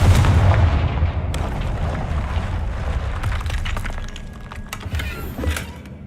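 Confringo spell explosion in a Harry Potter video game, a loud booming blast that rumbles low and then fades into scattered crackling debris over several seconds.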